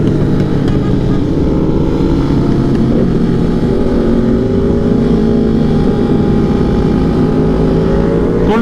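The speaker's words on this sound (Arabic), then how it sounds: "طب في موتوسيكل قدام، اصبر." Steady, loud engine drone heard from inside a moving vehicle on a street, with a motorcycle up ahead, continuous low rumble and rising whine throughout.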